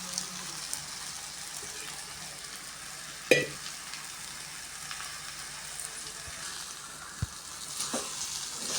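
Ground batter being stirred into a sautéed mixture in a pan, heard as a soft, steady sizzle with a faint scraping churn, quiet and close, marked by a couple of sharp utensil knocks against the pan.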